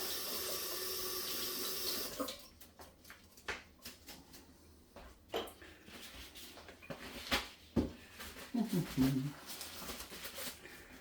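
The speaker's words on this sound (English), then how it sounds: "In fact, I've handled fish, so quickly rinse my hands" A kitchen tap runs strongly for about two seconds as hands are rinsed after handling fish, then stops, leaving scattered drips, clatters and soft handling noises nearby.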